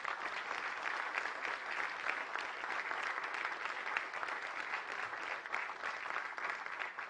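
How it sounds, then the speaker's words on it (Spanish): Sustained audience applause in a hall for a Telesur team tribute: steady, dense clapping from many hands, moderately distant and even throughout, with no voices standing out. "pedir un fuerte aplauso para Telesur"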